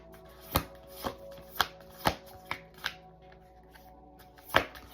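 Oracle cards are shuffled by hand in a quiet room, giving sharp papery slaps at irregular intervals, about eight distinct close riffles over a few seconds.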